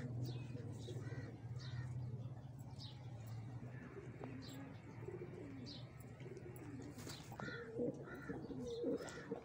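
Pigeons coo repeatedly at close range in a catching spot where stray birds come and go, soft throaty calls over a low murmur with occasional chirps and faint background sounds.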